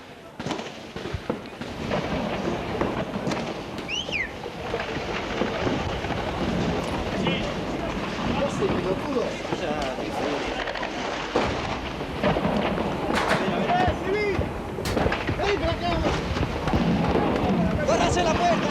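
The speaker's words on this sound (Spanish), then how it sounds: "Es impresionante la cantidad de disparos que se están efectuando en este momento." Heavy gunfire from long guns, pistols and mortars during a violent clash, a dense continuous barrage of cracks and booms over about nineteen seconds, with shouting voices mixed in throughout.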